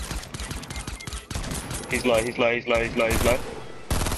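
Rapid gunfire bursts from a Fortnite battle crackle close and loud in quick repeated volleys, broken by short pauses, while a player talks over the shooting.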